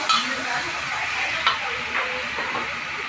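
Lotus root sizzles in hot oil rendered from browned meat in a pan, a steady close frying hiss with a few light stirring scrapes and clinks.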